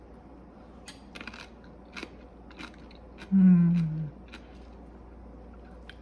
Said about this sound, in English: When you do it yourself, and it doesn't have to be canned, it stays so crunchy and crispy